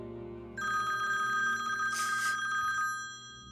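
A telephone rings with a steady electronic trill that starts abruptly, holds for about two seconds, then fades, set against a quiet indoor room tone with no talking.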